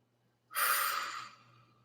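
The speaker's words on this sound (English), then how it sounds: "I inhale through the nose and then I push the breath out through my mouth" One long breath pushed out through the mouth after an inhale through the nose, a soft airy exhale of about a second that fades out, heard alone and up close.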